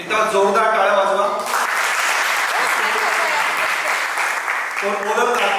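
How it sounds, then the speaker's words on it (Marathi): Loud, sustained audience applause at a Marathi story-reading event, dense clapping running through the middle with a voice speaking over it at the start and end. "जोरदार टाळ्या वाजवा."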